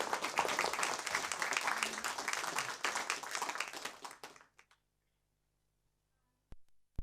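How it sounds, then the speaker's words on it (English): A live audience at a poetry gala applauds warmly, dense clapping filling the room for about four seconds before trailing off into silence, followed by a couple of sharp isolated sounds near the end. "please give them all a warm round of applause"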